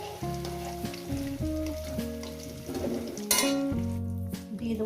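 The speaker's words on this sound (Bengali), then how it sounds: "এই আলুটাকে আমি ভেজে নেবো।" Potato pieces fry in hot oil with a steady crackling sizzle and occasional stirring, heard close under cheerful background music with no speech.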